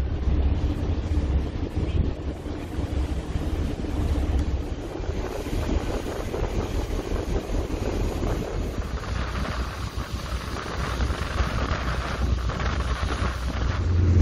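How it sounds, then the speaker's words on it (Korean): Strong wind roars steadily across the microphone aboard a boat travelling along the coast near Positano on the Amalfi Coast, a loud constant rush with water and engine noise beneath and no voices. "바람 시원하죠?"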